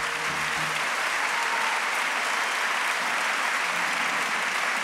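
An audience at an award ceremony in Galicia gives a long, dense round of applause, an even, continuous roar of many hands with no pauses, with brief murmuring low underneath at the start.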